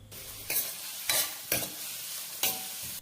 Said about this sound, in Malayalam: കടായി ചൂടാവുമ്പോൾ അതിലേക്ക് ആവശ്യത്തിന് വെളിച്ചെണ്ണ ഒഴിച്ച് ചെറുതായി അരിഞ്ഞ സവോള അതിലേക്കിട്ട് വഴറ്റിയെടുക്കാം